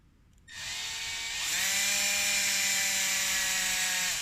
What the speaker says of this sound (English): I'm just going to drill a hole in the top of this tank